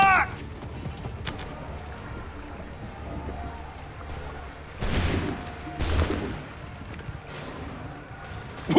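Musket volley in Assassin's Creed 3: two loud, broad bursts of massed gunfire a second apart rise out of a low battlefield rumble, with faint shouting before them.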